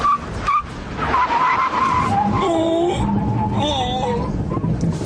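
A Mercedes CLS 55 AMG brakes hard, and its tyres let out a loud, sustained skidding squeal that wavers in pitch for several seconds over the rumble of the car.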